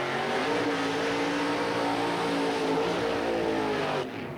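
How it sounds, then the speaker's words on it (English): An IROC Z28 Camaro drag car with a 548 cubic inch aluminum Rodeck racing engine roars through a burnout at a 1987 drag strip, loud sustained engine howl throughout, easing slightly at the end. "Oh, what a burnout by Weddle."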